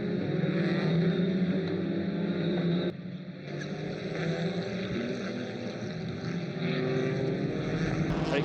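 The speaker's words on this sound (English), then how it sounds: "Let's ride for a moment now on board with Rob Huff in the Kumho Racing Audi" Onboard a Kumho Racing Audi TCR race car driven by Rob Huff during a race at Portimão: a loud, steady engine drone fills the cabin, briefly dipping around the three-second mark before resuming at full intensity.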